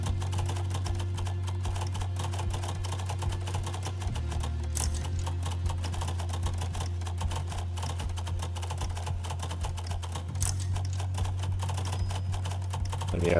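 Steady, rapid keyboard typing in the typing game Final Sentence, with fast clattering keystrokes running continuously over a low background hum and no talking.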